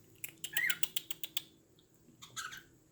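Pet cockatiel calling in a home during its morning routine, a run of sharp chirps and squawks in quick succession up close, then a shorter burst after a brief pause.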